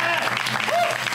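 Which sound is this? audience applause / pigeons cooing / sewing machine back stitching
audience applause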